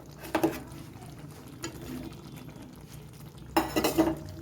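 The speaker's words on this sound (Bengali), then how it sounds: "এবারে আমি দিয়ে দেবো পটলগুলো।" Pointed gourds drop into a pot of simmering lentils and potatoes for a Bengali mung dal and potol curry, giving two bursts of clattering, stirring and splashing near the start and the end, with quiet bubbling between and no talk.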